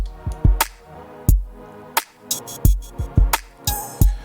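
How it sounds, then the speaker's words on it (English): A drum kit groove with punchy kicks, snares and hi-hats, the whole mix ducking and swelling in a pumping sidechain rhythm after each kick. "I want to kind of have that dipping pumping effect"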